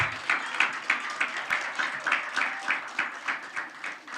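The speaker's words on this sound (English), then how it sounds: "I think we should clap for Nkiru as well." An audience claps for Nkiru, a school principal, at a Model Legislative Assembly closing, a modest group applauding in a quick, pulsing rhythm that sounds fairly close and stays even throughout.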